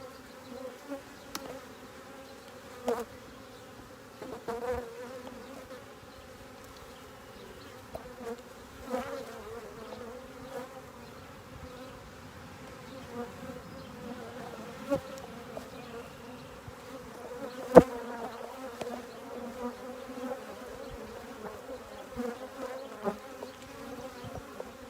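Honey bees buzzing around a hive entrance as they fly in and out, a soft continuous hum with occasional louder passes of single bees close by, no voices.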